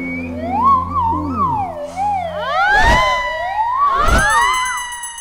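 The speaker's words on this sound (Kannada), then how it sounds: "ಸೈರನ್ ಶುರುವಾಯ್ತಲ್ಲಪ್ಪ." Loud, close siren wails with sweeping up-and-down pitch in a comedy scene, dominating throughout alongside a couple of brief sharp bursts.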